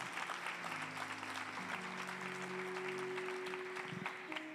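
Sustained clapping from a church congregation during a sermon, even and continuous, with a soft sustained musical tone beneath it.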